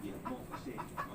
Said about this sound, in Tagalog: Ay, mga manok.